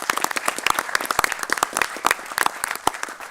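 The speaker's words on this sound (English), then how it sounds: "Can we give her a round of applause?" Audience at a county budget address clapping in a round of applause, with individual sharp claps audible in an uneven, lively patter, close and fairly loud.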